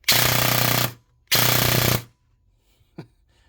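Two long full-auto bursts from a VFC Avalon MP5 airsoft electric gun, each a dense, loud buzzing rattle close by, the first about a second and the second slightly shorter, followed by a small click.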